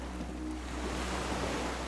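Waves lap steadily around a small wooden skiff moored at a dock in Disco Elysium, a soft continuous wash with a low hum beneath, quiet and unbroken.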